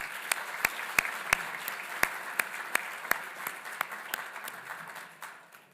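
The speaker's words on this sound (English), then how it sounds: "let's give another round of applause" A university leadership awards ceremony audience gives a round of applause, a fairly distant, thin patter of claps with a few sharp individual claps standing out, tapering off at the end.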